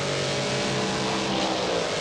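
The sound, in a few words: race cars speeding down the straight at Eastern Creek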